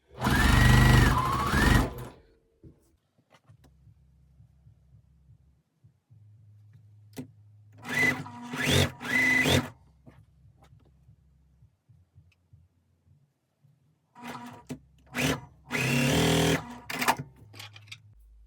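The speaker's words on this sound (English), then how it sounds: "So I'm going to sew the star together" A sewing machine stitches a quilt star block in several bursts of rapid mechanical whirring, separated by quiet pauses with soft low hum and clicks, heard up close.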